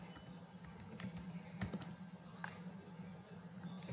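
Soft, scattered keystrokes on a computer keyboard, faint clicks over a steady low electrical hum.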